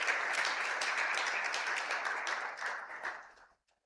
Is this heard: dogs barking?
no